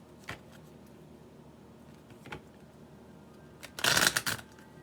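Tarot cards riffle and slap together during shuffling, soft isolated flicks early on followed by a louder burst of rapid shuffling near the end, close and otherwise quiet.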